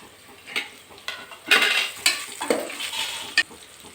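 Whole spices such as cloves, bay leaf, cinnamon stick, star anise and shahi jeera sizzling in hot oil for bagara rice, with irregular scraping stirs and clinks of a spoon against the pan, close and without talk.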